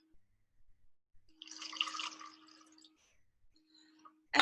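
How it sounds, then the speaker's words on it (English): About 100 milliliters of water poured into a cup: a faint, close trickle and splash lasting roughly a second and a half amid quiet, followed by a brief clatter at the end, with no talking. "in the water cup, I'm going to pour 100 milliliters of water"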